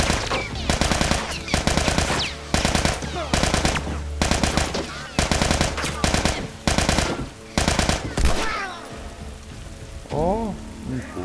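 Gunshots in the video game The Last of Us Remastered ring out as loud, rapid bursts of automatic fire in repeated clusters over several seconds, then give way to quieter clatter and a short rising tone.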